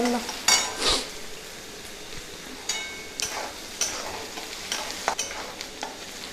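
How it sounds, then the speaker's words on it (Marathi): Onions brown in a pan for pav bhaji while a spatula stirs them, producing a soft sizzle under repeated scraping strokes and light metallic clicks, close up with no one speaking. "बघू शकता इथं तुम्ही आपला कांदा मस्त असा तांबूस भाजत आला आहे"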